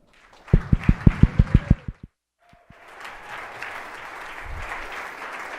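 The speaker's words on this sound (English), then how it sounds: "Let's have a rousing round of applause for Mariano DeMuro." Audience applause greets the CEO presenter at a startup demo day pitch event: a run of sharp, evenly spaced claps, a brief pause, then a sustained wash of crowd clapping.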